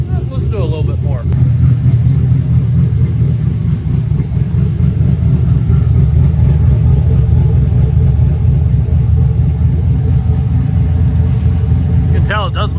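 A car's exhaust rumbles through a cheap aftermarket muffler with a deep, steady idle drone close by, and brief voices come in at the start and end.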